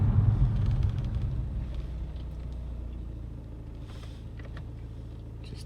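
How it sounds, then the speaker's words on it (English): A car approaches along a rural road at night, a low, steady engine and tyre rumble that stays fairly faint and even throughout, with no voices. "Just dim the lights for the car that's approaching us."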